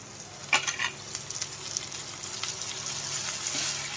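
Green beans tumble into a hot pan of oil with onion, green chilli, curry leaves, cumin and mustard seeds for an Andhra-style fry, setting off a steady close sizzle marked by a few sharp clinks and stirring scrapes.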